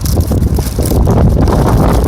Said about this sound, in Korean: 무슨 바람이 이렇게 불어